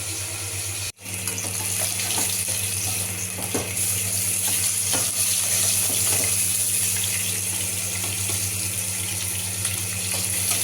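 Pieces of fish fry in hot oil in a kadai, a loud, continuous crackling sizzle heard up close with no voices, broken only by a brief dip near the start.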